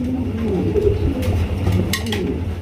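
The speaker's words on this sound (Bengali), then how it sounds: "এখানে রয়েছে আরো একজোড়া রাসগোল্লা কবুতর" Pigeons of a large cream-coloured exhibition breed coo repeatedly at close range, soft low throaty calls overlapping in a loft, with faint rustling in the background.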